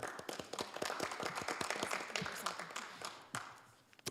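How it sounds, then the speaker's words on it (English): Scattered applause at a city council meeting after a unanimous vote, a modest group clapping steadily from a moderate distance and then trailing off into a few last claps. "I think it's worth a hand clap"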